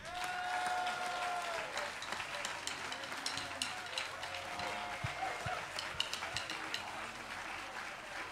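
An audience claps to welcome a singer at a live show, a fairly faint, steady wash of crowd applause with a few scattered louder claps.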